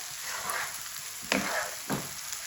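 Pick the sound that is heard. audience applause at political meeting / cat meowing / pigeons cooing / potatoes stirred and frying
potatoes stirred and frying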